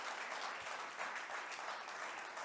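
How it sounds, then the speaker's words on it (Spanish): A church congregation claps together in steady, continuous applause that fills the room at an even level, with no voice heard over it. "Fuertes aplausos a nuestro Dios"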